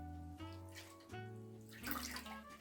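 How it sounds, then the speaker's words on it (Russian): Fresh wild herbs being rinsed in a bowl of water, with soft splashing and swishing that is faint and close, under a steady musical background. "В нескольких водах моем травку."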